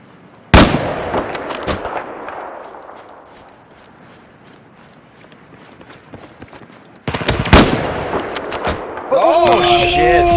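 Video game gunfight between a FAMAS rifle and a sniper rifle: a sharp loud shot opens, followed by a quieter stretch with faint movement, then another burst of sharp gunfire near the end, with a voice briefly heard.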